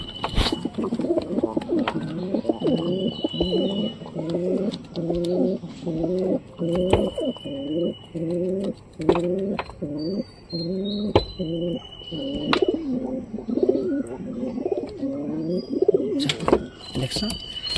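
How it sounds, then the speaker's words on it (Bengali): Pigeons coo close by in a long run of throaty, rolling calls, one phrase after another, with occasional sharp clicks and handling noises around them. "কবুতরটা ধরি আগে"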